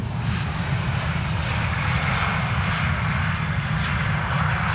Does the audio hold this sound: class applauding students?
no